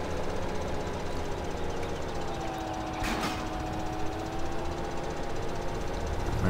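A tractor engine in Farming Simulator 17 runs steadily, a loud, rough, knocking drone that continues without a break and has no voices over it.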